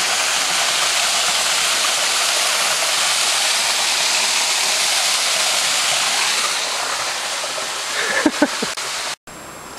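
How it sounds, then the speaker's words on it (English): A roadside waterfall along the Road to Hana on Maui pours in a steady, full rushing hiss, loud and continuous, with a few brief knocks near the end. "There's another waterfall."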